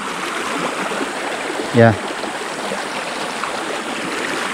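A free-flowing stream runs through a Philippine village in Tinambac, Camarines Sur. It gives a constant broadband rush of water, and a brief voice cuts in near the middle.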